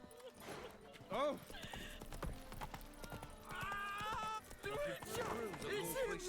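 Roach the horse in The Witcher 3, a loud whinny and snorts over clip-clopping hooves, with a voice and other in-game voices speaking over the horse sounds.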